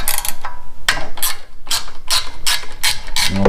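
A ratchet wrench loosening a bolt on a snow blower engine, several quick bursts of loud, close ratcheting clicks separated by short pauses, with no speech.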